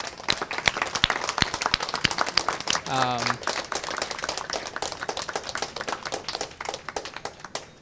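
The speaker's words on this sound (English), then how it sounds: "Let's give them all another round of applause" A crowd applauding, dense clapping spread through the whole stretch, with a brief voice-like tone rising in the middle.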